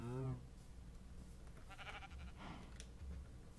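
Sheep in the Minecraft video game let out a short bleat at the start, faint and quiet against a low background, followed by scattered soft game noises.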